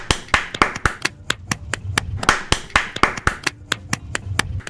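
Sharp hand claps from a group of people ring out in an uneven, brisk rhythm, close by, with a faint background hum between them.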